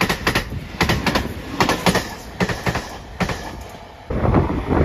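A JR Shikoku 8000 series limited express electric train passes through Toyohama station, a run of rhythmic clattering wheel beats over rail joints sounding loud and close for several seconds.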